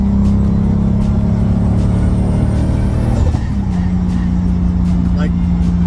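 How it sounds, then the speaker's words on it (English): A 2025 Porsche 911 Carrera fitted with an exhaust valve controller holds a loud, steady engine drone under boost, then drops sharply partway through as the blow-off valve vents and the tone shifts to a lower settled note. "Blow-off valve sounds completely different."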